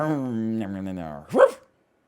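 A voice imitates a dog barking, with a drawn-out growling vocal followed by one short, sharp bark-like shout, close and loud, then silence.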